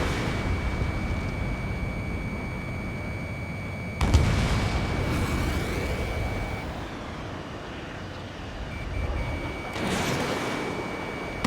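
Missile hits and booming explosions in the air-combat game Ace Combat 7 Skies Unknown, with a sharp blast partway through and another later, over a steady engine roar and a sustained electronic warning tone.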